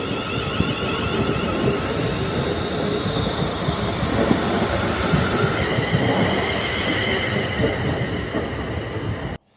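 A ScotRail passenger train at Mount Florida Station in Glasgow, rolling continuously with a loud, steady rumble and faint high wheel squeal throughout, no voices.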